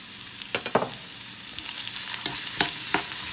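Chopped onions sauté in a pan with a soft, even sizzle, punctuated by several sharp scrapes and knocks as they are stirred.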